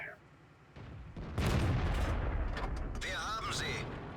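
A Jagdpanther tank destroyer's main gun fires once in World of Tanks, a loud, deep blast with a long rumbling tail that fades slowly, followed by quieter whirring game effects.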